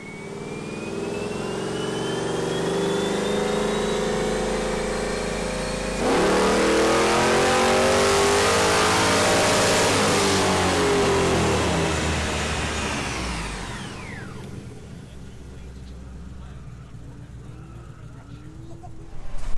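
A hot rod engine on a dyno, running hot during repeated power pulls, revs in two long, rising pulls: a loud, sustained roar climbing in pitch, then winding down to quiet idle and near silence at the end.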